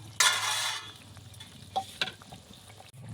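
Hilsa fish and eggplant fry in a pan, opening with a loud burst of sizzling that settles into quieter frying, broken by several scraping stirs of a spatula.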